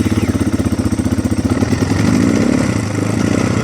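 A 2025 GPX 300r motorcycle engine runs cold with the choke on, rich and a little uneven, giving a close, loud, rhythmic chugging idle with pulsing exhaust beats throughout.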